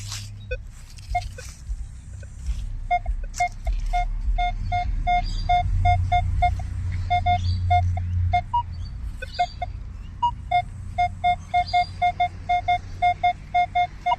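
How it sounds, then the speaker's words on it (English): Repeated short electronic beeps from a metal detector pulse steadily over a low rumbling background, growing quicker and more insistent toward the end as it locates a coin-like signal outdoors. "Sort of sounds like a coin signal as well."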